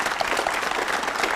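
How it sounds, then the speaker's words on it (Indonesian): Steady audience applause at an Indonesian lecture by Jusuf Kalla, dense and even, moderately loud, with no speech over it. "kita beri tepuk tangan dulu."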